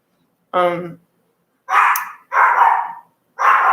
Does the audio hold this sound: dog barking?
yes